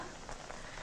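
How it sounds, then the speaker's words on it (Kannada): Rain driven by wind makes a short, close, even hiss with faint patters of drops. No voices. "ಈ ಮಳೆಗಾಳಿಗೆ ಏನು ಕೇಳಿಸಲ್ಲ ರೀ"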